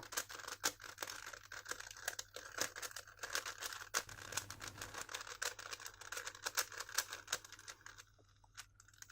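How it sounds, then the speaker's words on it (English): Rapid plastic clicking and clacking of a Megaminx puzzle being twisted to scramble it, many quick irregular turns close by, continuing steadily without voices. "So let me shuffle the cube now."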